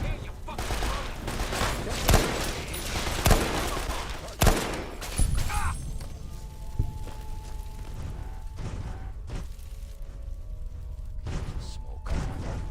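Sharp gunshots and scattered bursts of fire in Fallout 3, with loud cracks early on fading into sparser, quieter shots and thumps over a low background hum.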